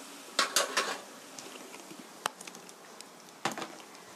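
Soy sauce is stir-fried in a pan while cooking Korean jjajang sweet bean sauce, with a few sharp utensil scrapes and clinks against the pan over a soft, steady sizzle, no voices.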